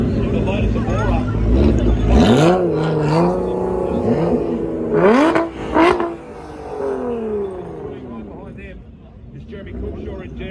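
A Lotus Evora sports car rolls past at a car show, its engine note swelling and sweeping up and down in a few close revs before fading, with voices heard over it.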